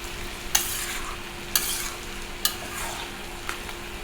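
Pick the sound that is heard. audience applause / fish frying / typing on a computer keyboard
fish frying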